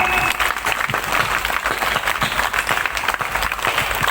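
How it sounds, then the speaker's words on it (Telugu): An audience at a Sunday evening Hindu gathering claps for young children, a loud, dense, sustained round of applause that fills the whole stretch without pause. "ఆ పిల్లలకి మనం చప్పట్లు కొట్టాలి"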